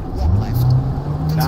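A rally car in the EA Sports WRC racing game brakes hard into a hairpin, its engine droning steadily at low pitch with a slight dip midway, fairly loud and continuous under light talk.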